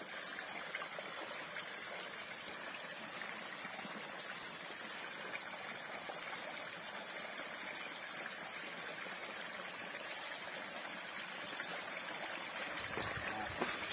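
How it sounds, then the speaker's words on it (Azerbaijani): Spring water flowing steadily out of a forest in the Kalbajar mountains, a continuous broadband rush and trickle close by, even in level throughout with no voices. "meşədən çıxan bulaq."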